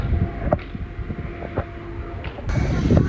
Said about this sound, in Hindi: मौसम क्या ज़बरदस्त है। हवा चल रही है, देखिए हवा।